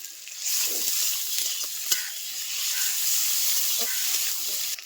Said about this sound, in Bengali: এখন আদা আর রসুন বাটা একসঙ্গে দিয়ে দিচ্ছি